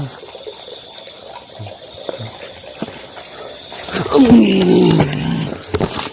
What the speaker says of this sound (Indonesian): Oh, ada sumber airnya juga.